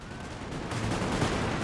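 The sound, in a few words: cannon fire in the video game Napoleon Total War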